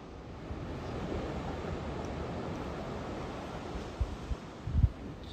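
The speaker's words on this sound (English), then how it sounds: "Just see the ocean." Ocean surf washing steadily onto a wilderness beach in Washington at night, a continuous broad roar of waves with a few louder thumps near the end, no voices.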